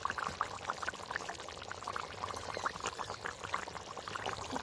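Water rolls at a full boil in a pot set up for cooking eggs, a steady dense bubbling and churning that stays fairly close and constant throughout with no voices over it.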